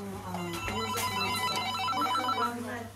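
A telephone rings repeatedly inside a busy small restaurant, its tones mixed into background music and a voice talking.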